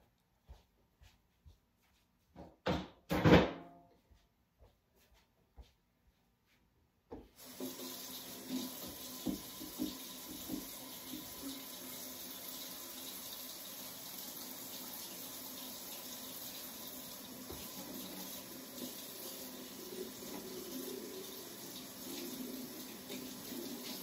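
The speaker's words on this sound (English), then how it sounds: "So in a second, I will wash my hands." Hands washed under a running kitchen tap during home baking, right after cracking eggs; a short knock and clatter, then a steady, even gush of water that runs without a break to the end.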